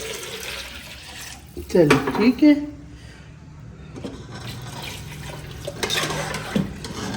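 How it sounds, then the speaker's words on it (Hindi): Water is poured into freshly ground spice masala while cooking arvi gosht, a brief splashing burst near the start and another later, under someone talking. "अब ये इसमें जो मसाला ग्राइंड किया था इसके अंदर पानी ऐड कर रही हूँ"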